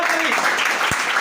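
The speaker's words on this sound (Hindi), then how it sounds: "राइट आंसर, जोरदार ताली।" Students in a classroom burst into loud, dense clapping that fills the space, with voices talking underneath.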